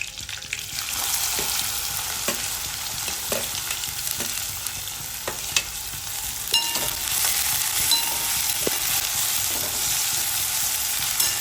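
Curry leaves, green chilli and onion hiss and crackle steadily in hot oil for a tadka, with a continuous close sizzle broken by occasional sharper pops and stirring clinks; no voices.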